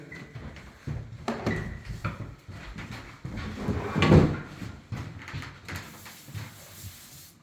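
Kitchen drawers in an apartment kitchen coated with sanding dust and mould being pulled open and pushed shut, giving several wooden knocks and slides with a louder clatter partway through.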